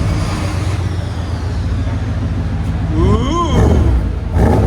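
A 1994 Chevy 1500 pickup with a 5.7L 350 V8 and aftermarket exhaust, nearly 200,000 miles, heard from inside the cab: a steady low rumble throughout, with brief tonal swells near the end and no talk.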